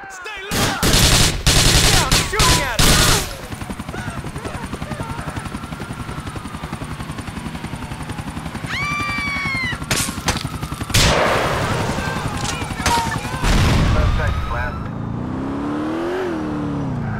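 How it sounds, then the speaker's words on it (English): Gunfire in Grand Theft Auto IV: a few loud close shots, then a running engine and a helicopter-like drone, more bursts of shooting, and shouting voices throughout. "He's shooting at us!"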